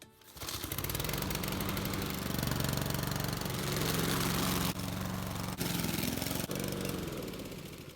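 A Honda GCV160 lawn mower engine runs close by after a crankshaft seal repair, holding a loud, steady drone for several seconds with a couple of brief dips before easing off at the end.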